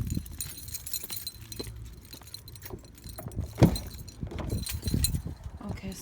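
A set of car keys jingles near a VW Beetle, with light metallic clinks and rattles alongside a sharp knock and some movement noise, heard up close.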